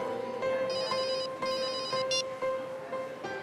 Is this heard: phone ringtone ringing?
yes